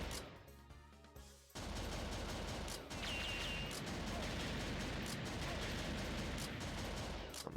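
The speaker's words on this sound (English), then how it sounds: "so you just have to keep firing and reload" Rapid gunfire from the video game Virtua Cop 2 on PC, a dense continuous volley of shots after a brief quieter opening, loud and sustained with no talking.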